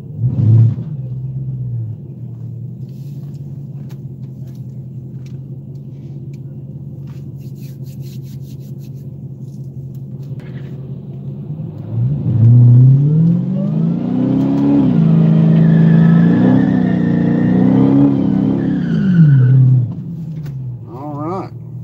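A drag racing truck at a dragstrip idles with a low rumble, then its engine revs up loudly in a sustained roar before dropping back, heard close and dominant.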